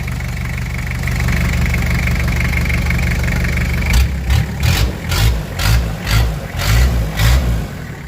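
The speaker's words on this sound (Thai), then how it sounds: "เครื่องนิ่ม ๆไม่มี ไอนะน้ำ ไม่ดันครับ เครื่อง ดีมาก" A Toyota Mighty-X pickup truck engine runs steadily at idle, loud and close, then is blipped in a series of rhythmic revs, each rising and falling in quick succession.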